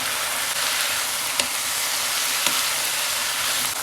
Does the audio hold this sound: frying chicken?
yes